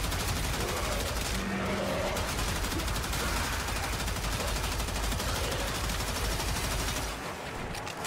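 Sustained automatic fire from an LMG-style gun in the video game Warframe, a dense unbroken stream of shots running loud and close for about seven seconds before easing off, with faint talk underneath.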